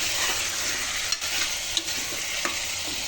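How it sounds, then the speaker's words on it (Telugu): Chicken pieces frying in hot oil for mango chicken, with a steady loud sizzle and a few sharp scrapes of a spoon stirring through the pan. "చికెన్ బాగా కొద్దిసేపు ఆయిల్లో వేయించుకోవాలి ఫ్రెండ్స్"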